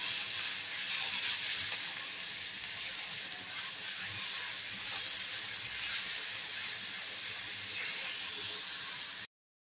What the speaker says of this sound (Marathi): आणि तेलामध्ये छान ते आपण परतून घ्यायचं आहे.